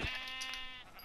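A sheep in the Minecraft video game gives a single clear, wavering bleat that trails off after about a second, heard alone.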